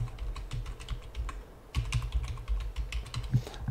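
Rapid, uneven keystrokes on a computer keyboard as a password is typed into a Hikvision intercom panel setup screen, close and fairly quiet, with no talking.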